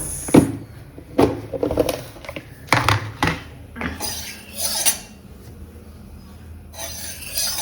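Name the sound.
stirring taro leaf curry in a pot with a utensil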